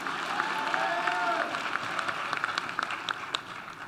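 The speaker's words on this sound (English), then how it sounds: "Let's give them all Another round of applause." Audience applause at an evening awards ceremony celebrating Black excellence, a steady wash of clapping from a crowd with scattered sharper claps and faint murmuring, moderately loud and continuous throughout.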